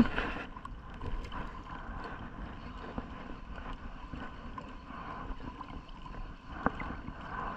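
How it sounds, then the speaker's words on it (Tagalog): Strong wind buffeting the microphone outdoors during lure fishing in bad weather, a constant rough rush with occasional louder gusts and faint water sounds underneath. "Ang lakas na ng hangin."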